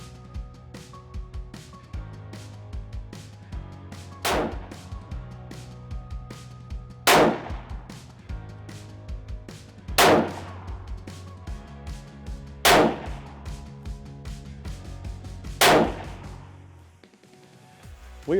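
A new rifle fired outdoors during barrel break-in, five sharp, loud cracks spaced about three seconds apart over a steady low hum, each shot ringing briefly.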